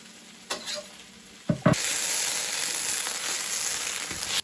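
Garlic drops into a hot frying pan for a coconut fish dish, bursting into a loud, steady sizzle after a couple of sharp clatters and holding that crackling hiss close up to the end.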